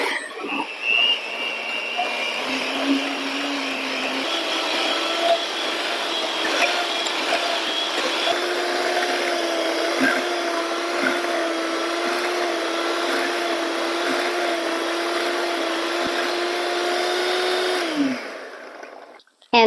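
An electric mixer creams butter, sugar and cream cheese for cookie dough, a steady close whine that holds for most of the time, shifting pitch slightly before it stops.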